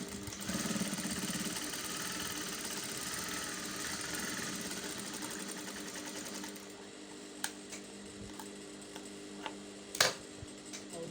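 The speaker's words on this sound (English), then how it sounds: "Then I'm going to sew from there." A sewing machine stitches the armhole of a shirt dress in a steady, close whirring run for several seconds, then stops, leaving quieter handling clicks and a sharp tap near the end.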